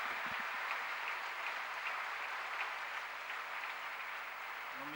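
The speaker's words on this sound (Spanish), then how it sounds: "Un aplauso." Steady applause from an audience gathered at a Spanish-language talk or meeting, many hands clapping in an even, continuous patter at moderate volume throughout, with no voices over it.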